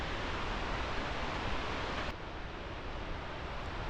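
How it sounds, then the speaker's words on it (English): Burney Falls in Northern California, a large waterfall pouring heavy volumes of water, gives a steady, dense roar of rushing water close by, unbroken and fairly loud throughout. "this Burney Falls drops 100 million gallons of water per day over these falls"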